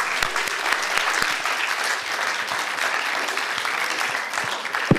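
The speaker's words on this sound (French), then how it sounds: "On les applaudit." An audience at an award ceremony for a citizenship prize applauds warmly, dense continuous clapping filling the room at an even level, with a few sharper individual claps standing out.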